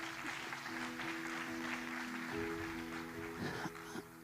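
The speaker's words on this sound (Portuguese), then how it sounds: "dê uma grande salva de palmas ao nosso Senhor." Applause from a church congregation comes faint and distant as a steady wash of clapping, with a sustained tone underneath and faint voices mixed in.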